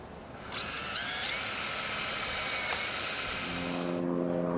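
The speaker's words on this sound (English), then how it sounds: "Run your drill a little bit slow to get the dimple started." A power drill whirs steadily at low speed, starting a screw hole in a greenhouse frame, its motor pitch holding even, then winding down near the end.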